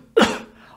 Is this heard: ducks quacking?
no